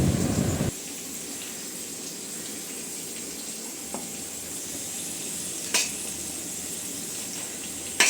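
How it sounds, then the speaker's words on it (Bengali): Bottle gourd and potato curry sizzles steadily in hot oil in a home kitchen, a soft continuous frying hiss with a few faint clinks of a stirring utensil. "এখানে মা রান্নাঘরে রান্না করছে লাউয়ের ঘন্ট"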